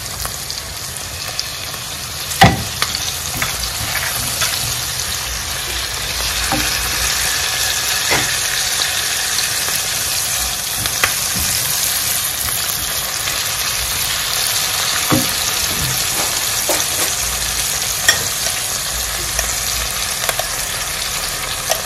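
Fresh tomatoes, with carrots and blended peppers, frying in a pan for egg sauce: a steady, crackling sizzle with occasional sharp clicks and taps of a utensil.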